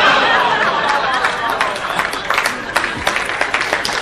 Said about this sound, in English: Some groans, some applause.